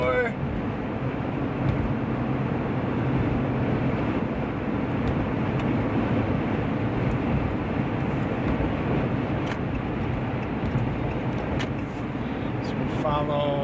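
A Hemi engine roars steadily from inside a moving vehicle, with loud continuous road and engine noise throughout and a brief voice near the start.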